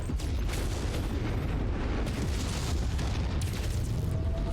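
A MechWarrior 5 mech battle explosion, a dense continuous rumbling roar with deep low boom and crackling bursts, loud and sustained for several seconds.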